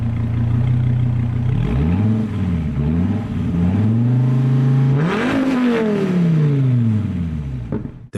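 The 8.4-liter naturally aspirated V10 of a Dodge Viper revs hard in the Forza Horizon racing game, loud and close, its pitch climbing and falling repeatedly before a sharp final rise and an abrupt cutoff.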